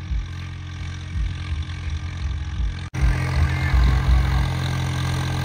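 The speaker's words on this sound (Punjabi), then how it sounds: "ਪਹਿਲਾਂ ਟਰੈਕਟਰ ਚੱਕਰ ਲੈ ਕੇ ਆਉਣ ਡਿਆ ਵਾ" A Swaraj 855 diesel tractor running while pulling a 9-by-9 harrow in a field, a steady low engine drone with a rhythmic throb, briefly cut off near the middle and then resuming slightly louder, with no talk.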